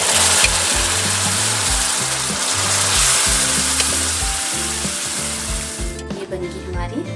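Dal of maa rajma frying in a pan of spice masala with ground fenugreek, coriander powder and red chili, a loud close sizzle with irregular stirring scrapes, settling into quieter crackles at the end; Himachali home cooking.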